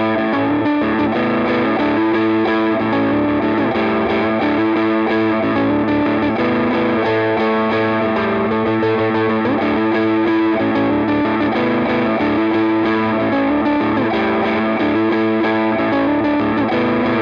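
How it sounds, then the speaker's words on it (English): A Squier 40th Anniversary Jazzmaster Gold Edition electric guitar plays continuously on its rhythm circuit through a Plumes overdrive pedal with a touch of Space Echo reverb, giving a dense, distorted, chorded sound with no talking. "I'll start with just the Plumes and a touch of reverb from the Space Echo"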